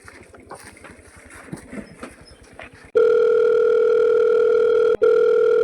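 After faint outdoor background noise, a loud, steady telephone ringing tone starts as a call is placed and hums on with one brief break.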